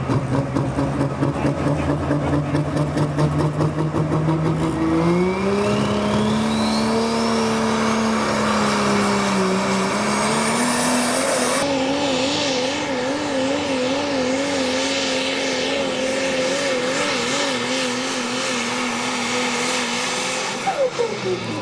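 A Cummins-powered pulling truck with a 2019 Ford body revs hard at a truck pull, its engine climbing in pitch, holding a loud wavering roar, then easing off. A voice is faintly heard underneath.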